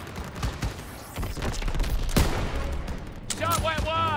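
Gunfire in the World War II shooter game Call of Duty WWII, with a sharp loud crack near the middle and scattered shots over a busy battle din, while voices shout in the background.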